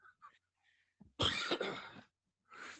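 A single harsh, breathy cough up close, after a few faint sounds, followed by a softer exhale.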